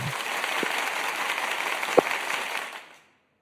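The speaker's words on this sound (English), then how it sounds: "Let me get my I gotta get my clapping sound." A canned clapping sound effect played back during a casual chat, a steady wash of crowd applause with one sharper clap standing out, fading out at the end.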